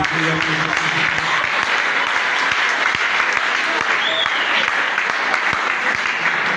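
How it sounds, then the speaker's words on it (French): Sustained loud applause from a large crowd, continuous clapping filling the whole stretch with a few voices faintly mixed in. "Veuillez applaudir s'il vous plaît."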